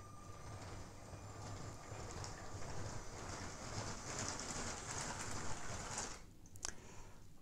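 A Lego Metroliner model train leaves a station with a faint, steady whirring and clatter, quiet and continuous, before a brief click near the end.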